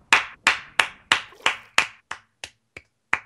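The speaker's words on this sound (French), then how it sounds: "Alors j'applaudis, c'est une fois." Sharp, single hand claps ring out at a steady pace, about nine in a row, close and crisp, with the last few softer and more spaced. No one speaks.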